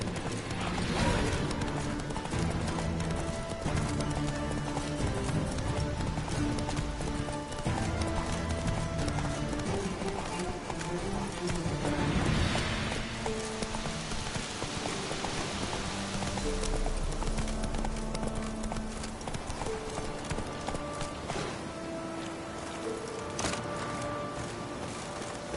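Hooves of the horse Roach drum steadily in The Witcher 3, a continuous clip-clop rhythm under game music and ambience, moderately loud throughout.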